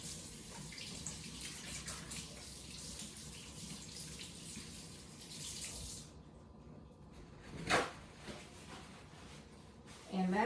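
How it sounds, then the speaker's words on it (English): A kitchen tap runs for hand washing while sweet potato pies are being made, a soft steady water flow that stops, followed by a few faint splashes and clatters. "wash my hands again"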